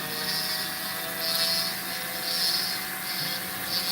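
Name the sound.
small ball burr shaving away metal in stone setting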